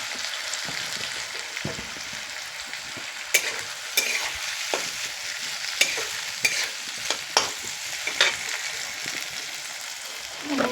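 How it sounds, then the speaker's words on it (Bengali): Potatoes fry in oil in a wok, a steady close sizzle broken by repeated sharp scrapes and taps of a spatula stirring at irregular intervals, with no speech. "দেবো কড়াইতে দেবো তেল আলুটা ভাজার জন্য"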